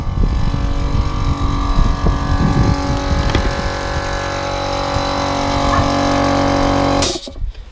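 A heavy Ursus C-325 tractor engine, started after a year unused, chugs and rumbles steadily at close range for several seconds, then abruptly shuts off, leaving near silence.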